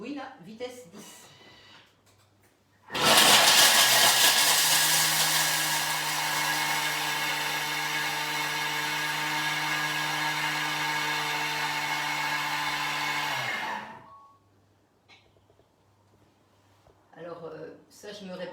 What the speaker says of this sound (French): on va mixer 10 secondes. Ça va faire un petit peu de bruit là, vitesse 10.